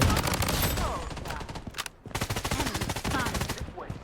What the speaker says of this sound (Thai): ยิงกันเดือด ระเบิดกินสามร้อย